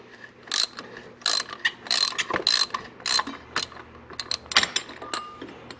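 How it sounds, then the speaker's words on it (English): A ratchet clicking rapidly in short bursts, loosening the oil filter on a Harley Davidson Ultra Limited FLHTK touring motorcycle, close up, with metallic ticks and small clanks between strokes. "we'll loosen up this oil filter"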